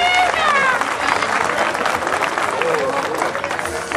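Crowd applause at a charreada in Cárdenas, San Luis Potosí, a steady broadband wash of clapping that holds for the whole stretch, with a voice talking over the start.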